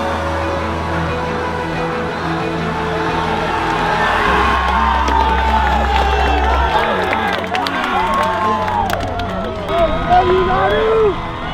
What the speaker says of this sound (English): the crowd rises to their feet. They're chanting, Nanu, Nanu, Nanu.